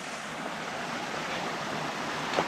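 Water of the Muddy Forks stream on the Timberline Trail around Mt. Hood rushes in a steady, broadband wash, close and moderately loud, with a brief splash near the end.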